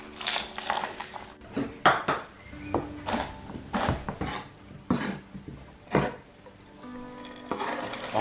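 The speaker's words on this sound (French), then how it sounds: "Maintenant, on hache les noix de pécan." A knife chops pecan nuts on a cutting board for cookie dough, with a close, irregular series of sharp knocks and crunchy cuts separated by brief pauses.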